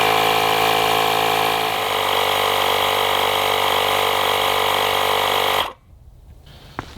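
A Milwaukee M12 compact tire inflator, model 2475-20, topping up a tire with a slow leak: a loud, steady droning buzz runs close for several seconds, then cuts off abruptly, leaving quiet room noise.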